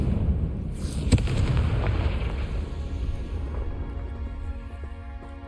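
A Confringo blasting spell in Hogwarts Legacy goes off with a sharp crack and a heavy booming explosion, followed by a long rumbling tail that slowly fades under a lingering tonal hum.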